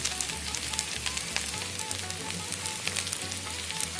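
Okra and green chillies fry in hot oil for a bhindi sabji, giving a steady, close crackling sizzle with a low rumbling undertone throughout, no voices.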